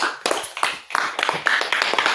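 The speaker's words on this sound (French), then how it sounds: "applaudissez pour David Nathanaël" A church audience clapping for a young reader, a few scattered hands at first swelling into a steady, moderate patter of applause, fairly close with no talk over it.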